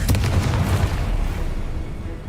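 Confringo blasting spell explosion in a Harry Potter video game, a heavy booming burst at the start that rumbles and fades away over a couple of seconds amid battle noise.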